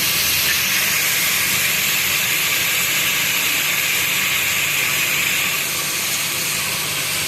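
Meat browning in a pot with spices and garlic-ginger paste just added, giving a loud, steady broadband sizzle and hiss that holds evenly throughout with no talk.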